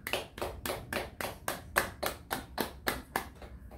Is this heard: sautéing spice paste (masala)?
no